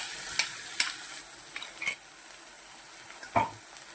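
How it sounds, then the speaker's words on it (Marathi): Onion, tomato, garlic and coriander paste sautéing in a pan with sesame and coconut for a brinjal-potato curry, a soft sizzle broken by several sharp scrapes and clinks of a spatula against the pan. "मस्त असं परतून घ्यायचं आहे"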